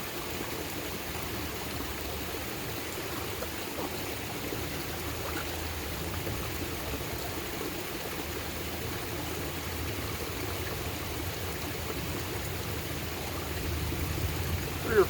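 A cleaned native fish is rinsed in a running stream outdoors: a continuous, even rush of flowing water fills the whole stretch, close and steady, with faint splashing toward the end.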